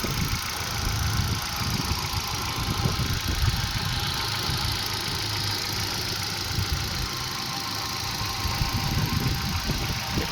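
A 2011 Hyundai i10 Magna petrol engine with 86,000 km on it idles steadily close by: an even, low, continuous hum with a faint rhythmic knock and no talking.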